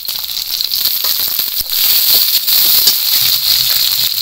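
Chopped onion fries in a pan with cumin and tomato, a continuous bright sizzle and hiss that stays close and steady, rising a little louder partway through, with no talking.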